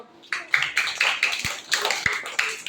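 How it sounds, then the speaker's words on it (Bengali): Children in a classroom clap their hands together in a brisk burst of many quick, overlapping claps that keeps going steadily for a couple of seconds, close and fairly loud. "সবাই একটা হাততালি দাও"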